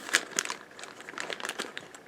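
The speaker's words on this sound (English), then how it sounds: "Let's go ahead and unbox them." Plastic packaging for a set of GTSP 60 keyboard keycaps crinkles during unboxing, with a few sharp crackles early on followed by a steady patter of softer rustling, close and fairly quiet.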